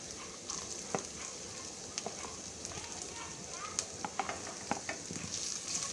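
Chopped onion and ginger frying in a pan, a continuous moderate sizzle with scattered crackles and light stirring clicks throughout.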